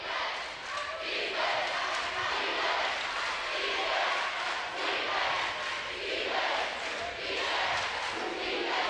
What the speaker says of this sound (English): Lutheran South's crowd very loud. Legacy's crowd very loud.